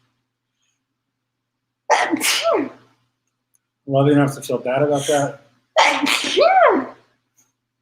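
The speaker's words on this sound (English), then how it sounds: "Let's sneeze." A sharp, forceful sneeze bursts out close by, followed by a spoken phrase and another quick exhalation-like burst.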